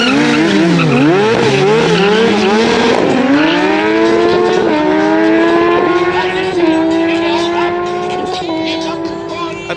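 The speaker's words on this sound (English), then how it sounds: "At least the bikes are giving us burnouts." Motorcycles doing burnouts at a drag strip send out a loud, sustained engine roar whose pitch swoops and climbs with the revs, laced with screeching tyres. A faint voice sounds underneath.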